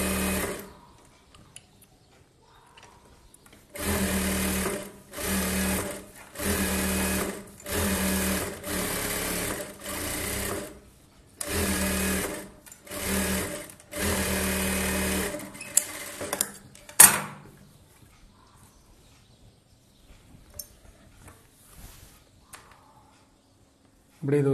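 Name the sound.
sewing machine stitching blouse fabric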